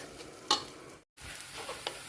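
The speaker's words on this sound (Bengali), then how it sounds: "আমার চাল ভাজা হয়ে এসেছে এই যে দেখেন চালের কালারটা কিন্তু চেঞ্জ হয়ে এসেছে আর একটা ধন ধন একটা আওয়াজ হচ্ছে" Rice grains frying in a pan make a quiet, continuous sizzle with soft stirring scrapes and a couple of sharper clicks, close but low in level.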